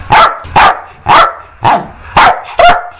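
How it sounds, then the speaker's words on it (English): A dog tied to a tree barks loudly six times in a steady, evenly spaced rhythm, each bark sharp and close with short pauses between. "be wary of that dog that's tied up to the tree again, that barks at them really loudly"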